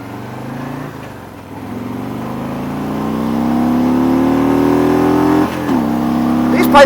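A motorcycle fitted with aftermarket exhaust pipes revs up steadily, its engine note rising in pitch and loudness over several seconds, close by and with no talk over it.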